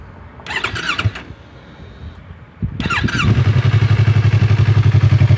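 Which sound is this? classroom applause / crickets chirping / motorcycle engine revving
motorcycle engine revving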